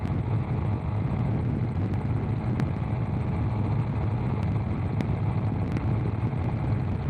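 Steady, droning engine of a gyroplane in flight running at max continuous power, 5200 RPM, a constant close roar with wind buffeting and occasional sharp clicks, no talk.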